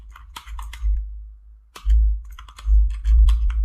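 Typing on a computer keyboard: quick bursts of sharp key clicks close by, a short run of keystrokes, a pause of about a second, then several more rapid clusters of presses.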